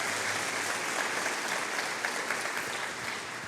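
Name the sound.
congregation applauding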